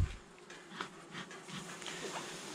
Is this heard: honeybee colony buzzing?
yes